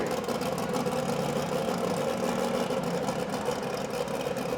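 A steady alcohol-fuelled pulling tractor engine drones throughout at a county fair tractor pull, fairly loud and unbroken, with a rough whirring texture and no voices.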